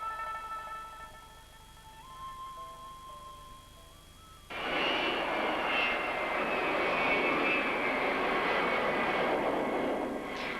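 Loud, close roar of a jet airliner at Beijing Capital Airport, China's largest airport, bursting in abruptly partway through after a quieter stretch of faint tonal hum, then holding steady as a broad rushing engine noise to the end.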